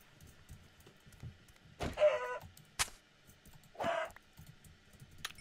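Chickens in a video game cluck in short, squawking bursts, three distinct calls over a few seconds set against quiet game background sound.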